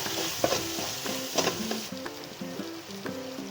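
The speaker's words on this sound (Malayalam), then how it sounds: "ഗരം മസാല 1/2 സ്പൂണ്, കുരുമുളക് പൊടി നല്ലോണം ഇളക്കി കൊടുക്കുക" A spoon scrapes and stirs an egg masala frying in a pan after garam masala and pepper powder go in. Soft sizzling runs underneath the close, rhythmic scraping strokes.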